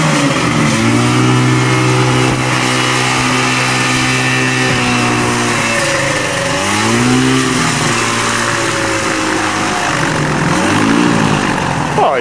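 A small light aircraft engine heard from the cabin revs and settles, a loud, harmonic exhaust drone that rises and falls in pitch for the whole stretch, close and steady.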